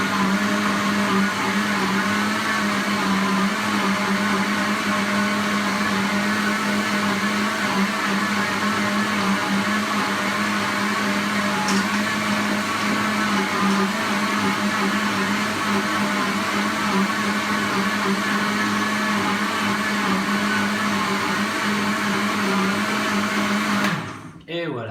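A blender runs steadily for about 24 seconds, mixing strawberries with sugar and a splash of water into a coulis, a loud continuous motor whine that cuts off abruptly at the end.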